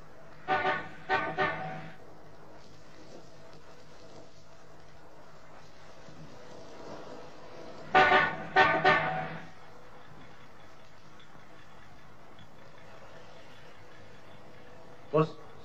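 A car horn honks in short bursts: a quick pair of toots, then a later group of three, and a final brief beep.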